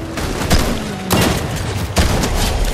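Gunfire in the video game Fortnite: three loud, sharp shots roughly a second apart over a continuous background of game noise, close and punchy, with no talking.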